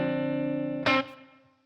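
A sustained, slightly distorted electric guitar chord through a Softube TSAR-1 small room reverb is cut off by a sharp pick or mute noise, leaving a short room-reverb tail that fades out.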